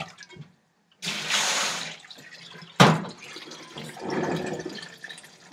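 Rice is rinsed under water in a colander: two soft bursts of splashing and draining, separated by a sharp clatter, fairly close and without talk.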